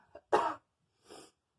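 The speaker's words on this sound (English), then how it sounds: "I am still fighting a cough, so I apologize for that." A person fighting a lingering cough gives two dry coughs, a louder one and then a softer one, close and alone in a quiet room.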